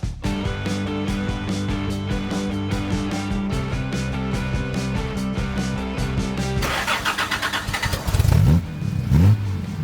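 A Jaguar E-Type 4.2 Series 1 Roadster starts on leafy Shropshire lanes: the starter churns rhythmically before the engine catches and revs hard in a few loud, close bursts, with no talking.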